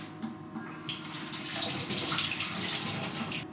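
Tap water streams steadily into a sink while a vegetable is washed for Jamaican Saturday soup, a continuous close splashing rush that swells after a brief start.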